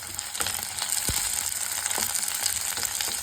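Onions and dried red chillies sizzle steadily in a pan, a continuous close hiss with a few soft stirring taps and no voices.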